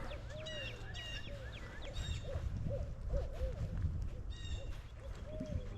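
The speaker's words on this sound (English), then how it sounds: "You can really hear the owls." Owls hoot repeatedly from nearby trees beside a low-water river in wooded Massachusetts ruins, soft rhythmic calls over a steady bed of rushing water and faint birdsong, no talking.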